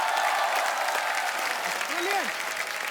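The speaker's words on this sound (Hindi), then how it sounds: "आपकी जोरदार तालियों के बीच स्वागत करना चाहूंगा" Studio audience at a comedy talk show applauding to welcome dance choreographer guests, a dense continuous wash of clapping heard close and loud with a brief voice briefly poking through.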